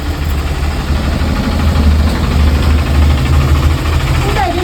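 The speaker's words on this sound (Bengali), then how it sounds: "দেখি কেমন গাছ কাটছে" A motorized engine drones continuously and loud outside, a steady low vibrating hum from a machine cutting down a tree, with no talk over it.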